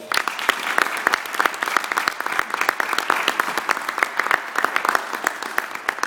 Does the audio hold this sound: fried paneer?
no